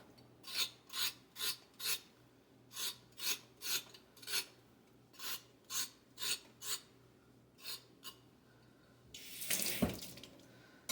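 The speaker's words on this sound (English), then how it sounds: "I just take a knife and scrape the peel off." A knife scraping the peel off a raw carrot in a home kitchen, a series of close, rasping strokes in uneven rhythm, followed by a brief burst of water running.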